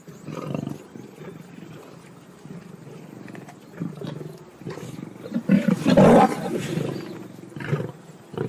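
A young white lioness roars in the wild, low grunting calls that build into a louder, close roar near the middle before tapering off.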